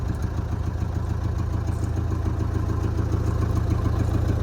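A 1986 Gigant truck with a 4-litre turbo engine idles steadily nearby, a loud, even low rumble with a fast rhythmic clatter running throughout, no voices.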